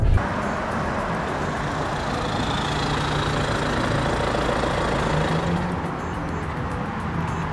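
A Hyundai Santa Fe's 2.2-litre diesel engine drones steadily for several seconds, a low, even rumble at moderate level that eases slightly near the end, with no talking over it.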